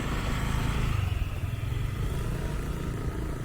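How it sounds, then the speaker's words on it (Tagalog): A motorcycle idles and rumbles close by outside a large church in Kawit, a steady low engine drone with light clatter throughout, no one speaking. "Ah, may motor din pala dyan guys,"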